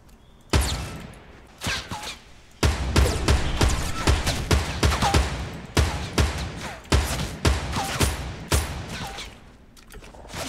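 In a Fortnite Battle Royale match, rapid bursts of gunfire crack out in sharp, loud volleys. Shots come in quick clusters separated by brief pauses, with a few isolated single shots among them.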